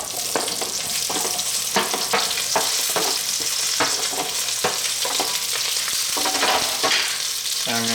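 Mirepoix dropped into smoking-hot oil for brown beef stock sizzles loudly and continuously, with periodic scraping clicks of stirring throughout; no one speaks.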